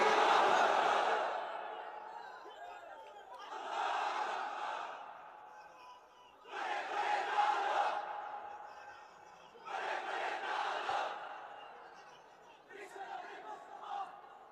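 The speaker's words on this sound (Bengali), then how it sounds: "তাকবীর পড়েন তো দেখি, যারা চলবে বলতেছেন লিল্লাহি তাকবীর" A large crowd at a Bangladeshi waz sermon by Mizanur Rahman Azhari chants the takbir, Allahu Akbar, in five loud unison bursts with short pauses between them, each one rising and then fading into the hall.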